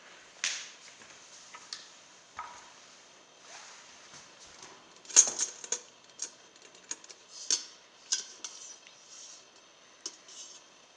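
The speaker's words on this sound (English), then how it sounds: "Now I'm gonna take the cheesecake out of the pressure cooker." Cheesecake pan lifted out of a pressure cooker, giving scattered faint metallic clicks and taps with light scraping, irregular and close, mostly quiet between the knocks.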